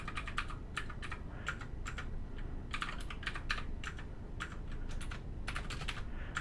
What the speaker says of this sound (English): Now I'm going to go ahead and just using tab, I'm going to type.